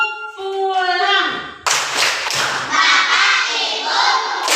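Children clap a rhythmic chant-clap routine in a classroom, sharp hand claps in patterned bursts alongside their sung and spoken chanting voices, close and loud.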